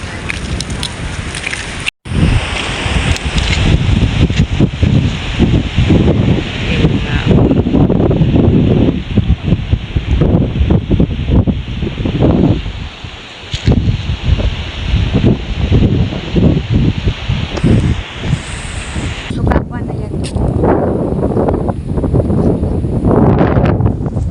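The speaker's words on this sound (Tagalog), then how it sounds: "mahangin naglilipara ng mga bunga" Strong wind roars steadily against the microphone outdoors, gusting and rumbling with rustling beneath it, briefly cutting out once.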